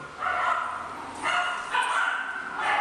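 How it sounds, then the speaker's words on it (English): Several small dogs bark and yip together in a daycare playroom, repeated overlapping barks at a steady pace, moderately distant and echoing in the room. "these are the small dogs all kind of going crazy"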